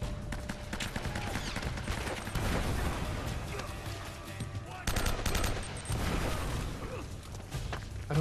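Grenade blasts and sustained gunfire fill a firefight in the video game Uncharted: Drake's Fortune, with dense rattling bursts, heavy booms and crashes that keep up loudly throughout.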